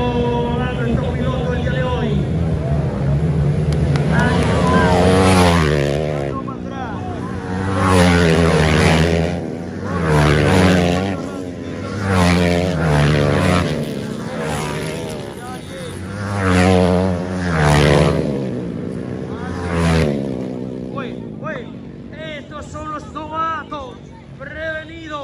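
CG 400 cc novice motorcycles race on a track, engines rising and falling in pitch as bikes pass, heard under near-constant excited commentary.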